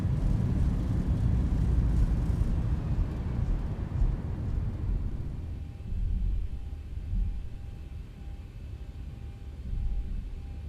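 A Boeing 737 on its landing rollout, the jet engines roaring through the thrust reversers with a loud broadband rush that fades after a few seconds into a lower, steadier cabin hum.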